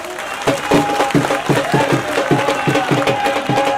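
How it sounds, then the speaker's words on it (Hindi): At a Congress party public rally in the Badli assembly constituency, the crowd claps in a steady rhythmic beat, about two or three sharp claps per second, over a sustained tone and some crowd noise. "जोरदार ताली बजाइए"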